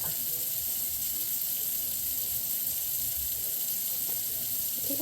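Water pours steadily from a tap into a container for tie-dyeing nylon mesh with acid dyes, a constant hissing rush with no pauses throughout.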